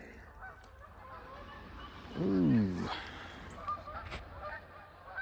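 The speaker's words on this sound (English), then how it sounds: "Geese got up." Geese honk loudly in a brief burst partway through as they take off, a few overlapping calls rising over quiet outdoor ambience, with a short exclamation from a person nearby.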